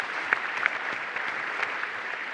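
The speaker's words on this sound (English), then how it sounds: "So give yourself a hand of applause." A keynote audience at a corporate customer event claps in steady, dense applause throughout, a broad even patter of many hands with no talking.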